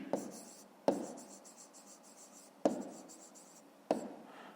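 A pen writing out a fifth-grade math solution on paper, soft scratchy strokes in several short bursts, each opening with a sharp tap, close and quiet with no talk.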